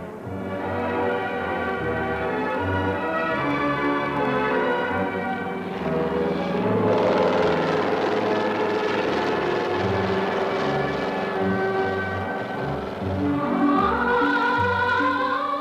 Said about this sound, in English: a helicopter and medical doctors were sent by the dear leader, Comrade Kim Jong-il.